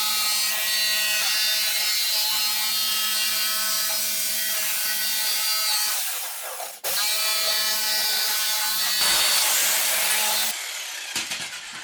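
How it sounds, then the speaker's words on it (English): A jigsaw cutting into a plastic container for a self-watering veggie planter, a loud continuous buzzing rasp that runs for several seconds, stops briefly, then starts again and carries on to the end. "so I can fit the jigsaw in to start the cut"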